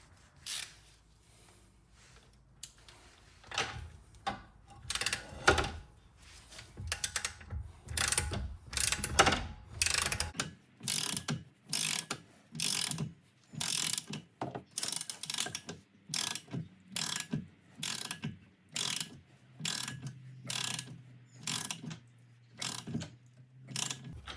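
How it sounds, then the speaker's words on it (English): A torque wrench set to 94 foot-pounds ratchets while brake rotor lug nuts are tightened, giving repeated bursts of sharp mechanical clicking in short rhythmic strokes, close and clear, with brief pauses between nuts. "So I'll get my torque wrench here, get it set to 94 foot-pounds, and we'll go ahead and torque this rotor on."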